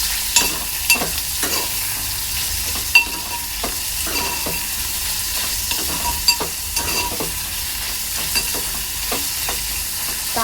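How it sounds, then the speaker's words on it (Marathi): Finely chopped long onion sizzles steadily in hot oil for Marathi kanda amti while a spoon stirs and taps the pan in irregular clicks, close and continuous with no voices. "टाकणार आहे मी बारीक चिरलेला आपला लांबडा कांदा, कांदा चांगला तेलावर परतून घ्यायचा आहे"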